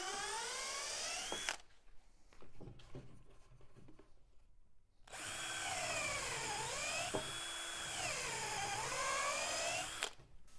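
A power drill bores holes in wooden support strips for a vertical panel saw frame. Two sustained whining bursts rise and dip in pitch, close and loud, separated by a quieter pause with light handling knocks.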